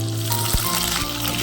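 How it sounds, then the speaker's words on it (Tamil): Onions dropped into hot oil with popped mustard seeds, crackling and sizzling steadily at close range for a short moment with no talk. "அடுத்தது வெங்காயத்தை போடுறோம்."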